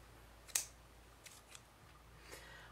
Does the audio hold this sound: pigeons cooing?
no